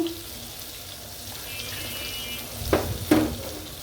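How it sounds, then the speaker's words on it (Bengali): Puti fish coated with lemon and spices frying in hot oil: a low steady sizzle close by, then two sharp spattering bursts near the end as the fish is shifted in the pan. "একটু ভাজবো"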